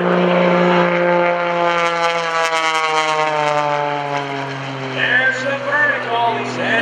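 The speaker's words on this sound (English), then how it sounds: "Rolling the airplane around, he's going to kick the tail in very shortly." Mike Wiskus's aerobatic propeller airplane performing at the 2014 Greenwood Lake airshow, its engine droning loud and steady with shifting pitch as it rolls and tumbles, while an announcer talks over a public address throughout.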